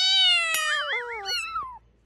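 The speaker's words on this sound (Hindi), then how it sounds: "सिक्योरिटी दादा, हमारे सेट्स में बिल्लियां आने लगी, इन्हें भगाइए." A cat meows on the set of a TV singing competition show. Two or three clear, drawn-out, wavering meows sound close and loud, then stop abruptly, with no talk.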